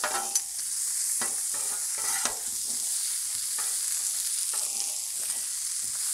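Pierogies and onions fry in oil and butter on a flat griddle, giving a loud, continuous sizzle broken by scraping spatula strokes.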